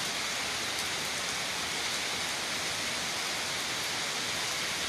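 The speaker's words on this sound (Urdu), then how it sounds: "دھواں دھار بارش، اور یہ بارش لگ بھگ کچھ 10:30 بجے سے شروع ہے" Heavy rain pours steadily in Karachi, a dense unbroken hiss that stays loud and even throughout with no voices over it.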